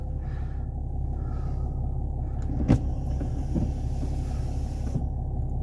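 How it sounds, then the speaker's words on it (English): Electric rear sunshade moving inside a parked 2006 Mercedes E320 CDI, a steady low motor whir over the cabin's engine hum, with a brief click partway through. "here's the rear sunshade"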